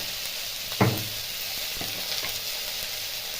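Orange pieces fry with spices, dried red chilli and panch phoron in a pan for an orange chutney, a steady loud sizzle with a few stirring scrapes and knocks.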